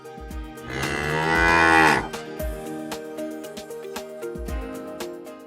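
Beef cattle on a large Kansas operation moo nearby. One long, loud, rising bellow is followed by shorter lowing calls, with intermittent thumps and clatter between them.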